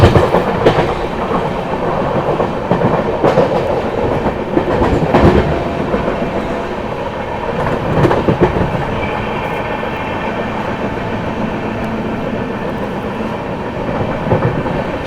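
The Shri Shakti AC Express runs through Sirhind Junction without stopping, heard from inside a carriage: loud continuous rumble with rhythmic clickety-clack of wheels over rail joints and occasional sharp knocks.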